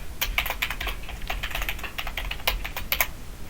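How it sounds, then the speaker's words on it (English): Fingers type a password on a computer keyboard during a Pop!_OS installation, giving a steady run of quick, close key clicks with a few louder taps and no talking. "Type in my password."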